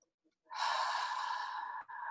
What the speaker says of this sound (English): We're going to inhale one more time.